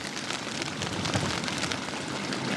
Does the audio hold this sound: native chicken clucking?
no